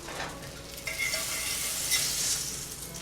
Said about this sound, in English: you take some butter and you just let it do its thing to coat